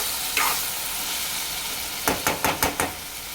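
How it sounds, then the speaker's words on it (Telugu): Bottle gourd curry stirred in a sizzling pan over low heat, with a steady frying hiss and a quick run of about six scraping spoon strokes toward the end. "ఇంకా మంచిగా కలుపుకోవాలి."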